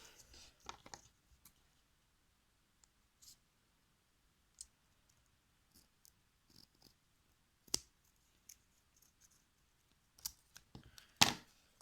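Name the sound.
cutting folded paper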